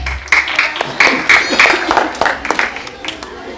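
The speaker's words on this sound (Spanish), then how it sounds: "Aplauso para la E." Children applaud at a lively gathering, scattered clapping bursts rising and falling over about three and a half seconds while excited voices and shouts mix in close by.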